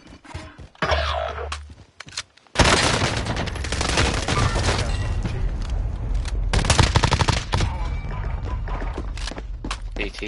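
Dense bursts of automatic gunfire in Warzone, loud and close, come in sustained volleys. A short pause near the start is followed by continuous rapid shooting and heavy impacts.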